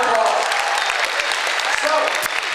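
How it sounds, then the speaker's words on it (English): A round of applause from the audience at a mentalist stage performance, brisk clapping with sharp individual claps, heard together with someone speaking. "Give them a round of applause."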